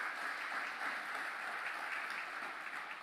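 Members of a Spanish-speaking congregation applaud during a sermon, a soft, steady, dense patter of clapping heard from some distance with no talk over it.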